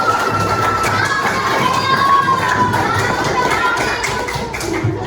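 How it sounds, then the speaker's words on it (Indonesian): A classroom of students clapping for a student group in an Islamic religious education lesson, a busy noisy burst of clapping mixed with children's shouts and chatter, continuous and close. "Silakan beri tepuk tangan untuk kelompok."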